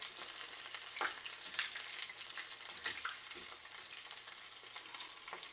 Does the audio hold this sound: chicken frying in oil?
yes